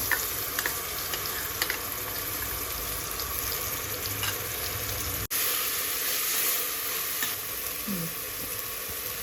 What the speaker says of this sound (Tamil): வெங்காயம் வதங்கிடுச்சு இது போட்டுக்கலாம்